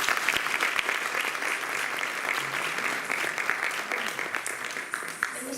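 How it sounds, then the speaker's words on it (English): An audience claps at a Guru Purnima celebration after a dance performance, a steady, moderately loud wash of many hands with a few sharper individual claps standing out, lasting the whole stretch. "If you all would like to give him another round of applause."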